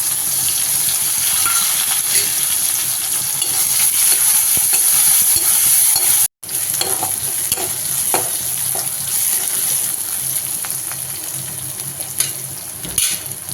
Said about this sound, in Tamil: இப்போ வந்து நம்ம சின்ன வெங்காயம் சேர்த்துக்கலாம் இடிச்சு வச்சுட்டு பச்சை மிளகாயும் சேர்த்துக்கணும்